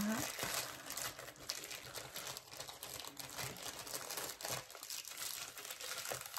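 A parcel from AliExpress is unwrapped, with dense, continuous plastic crinkling and rustling heard up close. Someone talks in French over the packaging noise.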